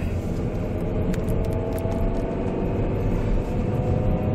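A car rolls along with worn differential bearings, a steady road and engine roar filling the cabin with a faint continuous whine carried on top, no voices.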